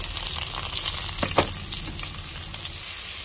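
Garlic, ginger and onion sauté in a hot pan with a steady, close sizzle and a couple of brief stirring scrapes, with no voices.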